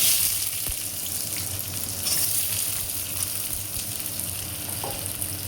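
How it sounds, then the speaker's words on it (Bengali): Chopped onions hit hot oil in a pan while cooking pulao, giving a steady, close sizzle and crackle that runs evenly throughout with no talking. "তেল গরম হয়ে গেছে, এখন পেঁয়াজ দিলাম"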